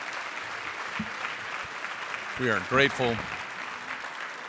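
Audience applause after a talk by the Mississippi State University President at a morning kickoff event, a steady wash of clapping at moderate distance, with a brief spoken voice rising over it partway through.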